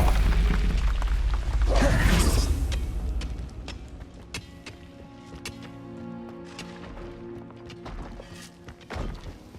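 In Hogwarts Legacy a heavy Bombarda spell blast booms up loud, then breaks into scattered cracks, clatters and falling debris that fade into quieter rumbling and a few late impacts.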